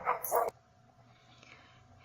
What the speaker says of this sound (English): then you hear the dog bark